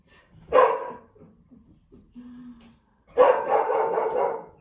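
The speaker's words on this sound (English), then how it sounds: "My lovely dog." A pet dog barks in a quiet indoor room during a home yoga session: one sharp close bark, a pause with faint small sounds, then a longer burst of barking.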